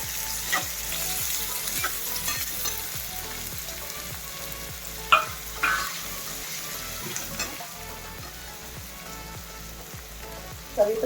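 Onion frying in oil with peanuts and curry leaves, a continuous close sizzle under rhythmic scraping strokes of a spoon stirring the pan, with a few louder clatters.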